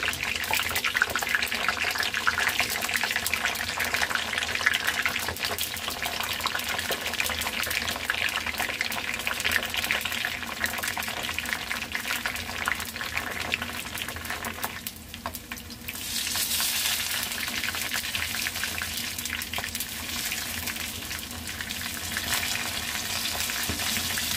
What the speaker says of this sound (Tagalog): magpiprito muna tayo ng talong. Skin first.